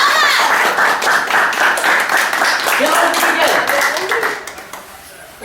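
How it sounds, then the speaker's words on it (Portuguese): An audience claps for a pair of commedia dell'arte clowns at a live stage show, a dense, loud patter of hands that carries steadily and then thins toward the end. "Cadê as palmas?"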